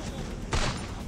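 A single sharp sniper-rifle gunshot from the Free Fire Craftland sniper challenge game, one loud broadband crack midway over a steady game-audio bed.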